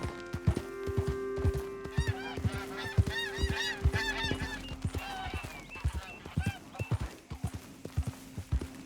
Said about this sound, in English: Canada geese.